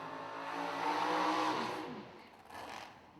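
A door car and a dragster launch side by side at a drag strip, engines roaring loudly as they accelerate away and fade into the distance.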